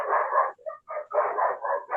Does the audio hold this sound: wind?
no